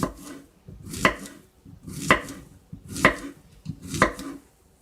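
A knife chops plantain steadily on a cutting board, four sharp strikes about one second apart, each with a brief crunchy tail, close and fairly loud.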